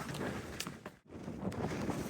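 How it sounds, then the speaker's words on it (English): Strong coastal wind near Keiss and John O'Groats in northern Scotland, with rain starting, buffets the microphone in rough, loud gusts with a brief lull midway. "Very, very windy."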